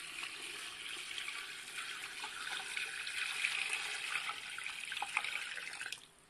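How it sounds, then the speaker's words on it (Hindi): Water runs steadily from a tap into a cooking pot already holding the ingredients for slow-cooked paye, a soft, even splashing hiss lasting several seconds before it stops. "मैं इसमें भी पानी डालती हूँ"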